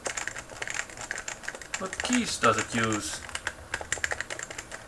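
Rapid typing on a blank DOS keyboard with non-clicky, tactile rubber-dome keys, a dense patter of soft close-up key clacks running under a man's brief spoken question.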